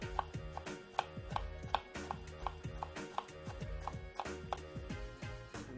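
A knife chops shallots finely on a cutting board for a beurre blanc, with quick, steady rhythmic taps, close and distinct, over a faint background hum.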